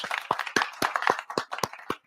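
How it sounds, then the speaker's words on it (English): A few people clap in a studio, roughly eight sharp, evenly spaced claps in a steady rhythm, close and fairly loud. "I was too busy clapping"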